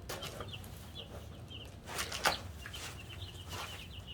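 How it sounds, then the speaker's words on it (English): Cornish Cross meat chickens cluck softly and intermittently in a small group nearby, with scattered short calls over a low background murmur and one slightly louder burst midway. "So I have some Cornish cross chickens."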